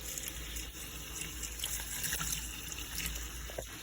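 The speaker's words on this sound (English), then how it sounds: "I'm going to swish that around and just wash them up really good" Cucumbers being swished and washed by hand in a sink of vinegar water, a steady close trickle and slosh of water running throughout with small splashes.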